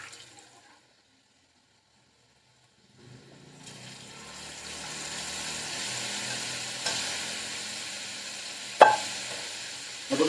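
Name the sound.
stirring chana dal and urad dal frying in a tempering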